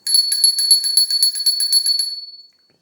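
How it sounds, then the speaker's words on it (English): A small squirrel-shaped bell rings in a rapid, bright jingle of about a dozen quick strikes over two seconds, then fades out with a lingering shimmer. It is heard alone and close up during a tarot reading. "Got my little squirrel bell there."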